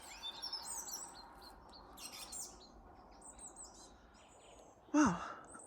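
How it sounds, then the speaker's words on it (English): Small birds chirp and tweet outdoors on a frosty morning among hoar frost, with faint scattered calls at a distance and one louder, closer call near the end. "the birds are singing and they've been fed"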